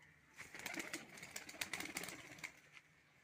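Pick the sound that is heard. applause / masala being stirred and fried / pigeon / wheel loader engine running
pigeon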